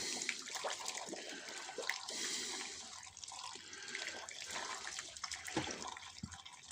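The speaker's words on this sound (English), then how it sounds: "just pour the very hot water over the hat" Very hot water pours and splashes over a hat on a dummy head, steady, a soft continuous rushing with small drips, fairly quiet and close.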